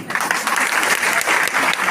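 A women's wing audience at a BJP women's conference in Kathua claps together, producing a loud, dense, continuous round of applause.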